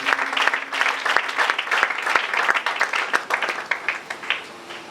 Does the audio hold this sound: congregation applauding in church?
yes